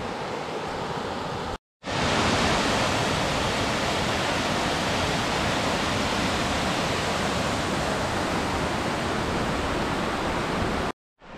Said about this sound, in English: the river. Rushing by and the sound of the water